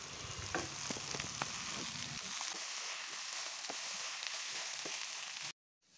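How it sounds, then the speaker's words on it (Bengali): Figs frying in a pan for a Bengali dumur bhaja, with a steady sizzle of hot oil and scraping clicks of stirring, close and alone before cutting abruptly to silence. "এভাবে অল্প কিছুক্ষণ পর পর নাড়াচাড়া করে দিতে দিতেই হয়ে যাবে আমার ডুমুর ভাজা"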